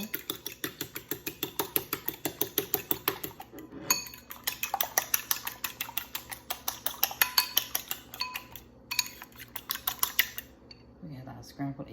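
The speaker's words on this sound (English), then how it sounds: "Go ahead and start to scramble our egg in our bowl." A fork rapidly whisks an egg in a bowl, giving a steady run of close, bright clinking taps against the sides with a short pause partway through. No one speaks.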